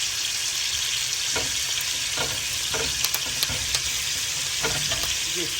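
Garlic and onion frying in a pan with rosemary and thyme, a steady close sizzle broken by a few light stirring scrapes and clicks, no voices.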